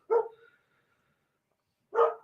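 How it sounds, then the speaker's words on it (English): A neighbour's dog next door gives two loud, separate barks about two seconds apart, with silence between them and no other sound. "Will that dog shut up?"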